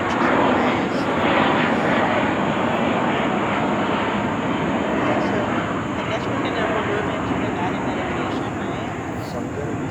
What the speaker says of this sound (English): Sorry about the airplane noise today.